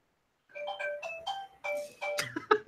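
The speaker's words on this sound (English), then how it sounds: "Sorry, I apologize. That's my phone." A mobile phone ringtone plays a bright, melodic sequence of electronic notes, fairly close and clear, for a couple of seconds in an otherwise quiet room.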